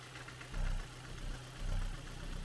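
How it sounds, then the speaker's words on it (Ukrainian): A 2009 Kia Ceed 1.4 MPI petrol engine idles steadily with a low, even rumble and slight pulsing swells, no voices. "Двигун рівненько працює."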